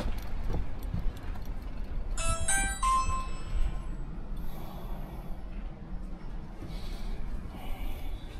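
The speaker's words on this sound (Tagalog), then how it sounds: "Please ring the bell." A doorbell at a home's front door, rung by a food delivery driver, gives a short cluster of bright ringing tones against a steady outdoor background rumble, followed by faint distant tones.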